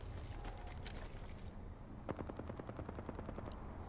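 Gunfire in a video game pops sporadically at first, then breaks into a rapid, evenly spaced automatic burst at moderate distance, fairly quiet overall.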